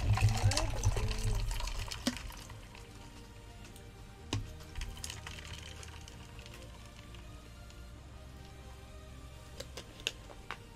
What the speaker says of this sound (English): let me fill my water cup